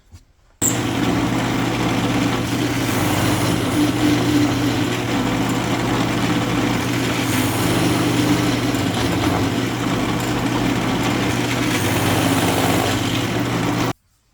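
A power drill cutting wooden plugs during a Fender Squier Bass VI bridge modification, a loud steady motor whine running unbroken for about thirteen seconds before cutting off abruptly.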